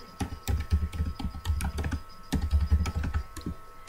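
Quick bursts of typing on a computer keyboard while entering a quiz question, the keystrokes coming in uneven clusters with a short pause midway, close and alone with no talking.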